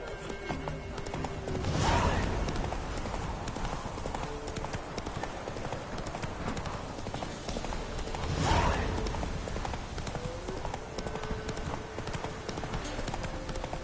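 Hooves of Roach, a horse in The Witcher 3: Wild Hunt, clip-clop in a steady galloping rhythm, with two louder swells of hoofbeats and a faint whinny amid the running.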